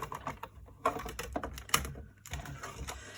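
A die cutting machine runs cardstock through with a series of close, uneven mechanical clicks and clunks. Brief pauses break up the rattling passes.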